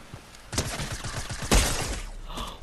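Gunfire from a weapon in the battle royale game Fortnite: a rapid string of sharp shots, then a louder blast partway through followed by a decaying crackle, heard alone and fairly close.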